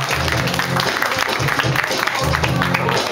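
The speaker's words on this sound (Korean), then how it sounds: "박수 쳐주세요, 여러분들." Audience applauding at a dance battle, dense continuous clapping and crowd noise filling the room with steady loudness, lower voices mixed in underneath.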